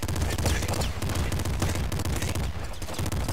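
Fully automatic weapons firing in the video game Nuclear Throne, a rapid, unbroken stream of shots layered with game effects at moderate level, no voice over it.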